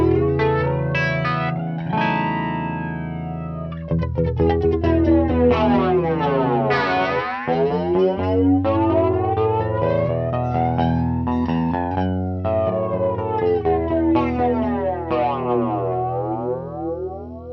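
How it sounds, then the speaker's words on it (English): A jet-plane style flanger guitar effect fed into distortion, with dense sweeping whooshes rising and falling repeatedly over sustained loud distorted chords that run throughout. "This is kind of the jet plane flanger sound. It's very obnoxious, but it sounds really cool into distortion."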